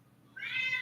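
A cat gives a single short meow in the background that starts abruptly after a brief quiet moment and is held to the end, with no voices.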